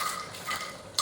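Cashew nuts frying in ghee for biryani give a brief close hiss of bubbling fat, with a light metallic tap of a spoon against the pan at the end.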